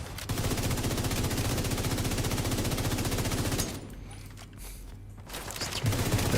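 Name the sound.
gunfire from shooting enemies in a video game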